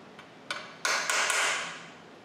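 Several sharp metallic hammer strikes on a 3/8 steel punch ring out during a Model T Ford engine build, spaced irregularly, the later blows louder and closer together with a short ringing decay.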